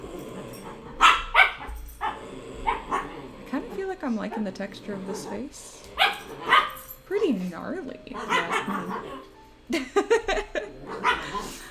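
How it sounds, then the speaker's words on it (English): Dogs bark and yip in the background in short bursts throughout, mixed under a person talking close to the microphone. "I know that you can hear the dogs in the background."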